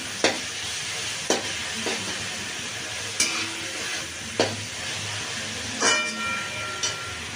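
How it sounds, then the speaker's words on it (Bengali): Chopped vegetables for fried rice sizzle steadily in a hot pan at close range, while a spatula scrapes and stirs, striking the pan in sharp clacks about once a second. "দেখো সবজিগুলো ভালো করে ভাজা হয়ে গেছে"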